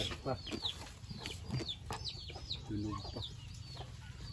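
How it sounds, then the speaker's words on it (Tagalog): Native chickens cluck in short soft bursts, with a few higher chirps mixed in, moderately close in a quiet outdoor farm setting. "Native na manok."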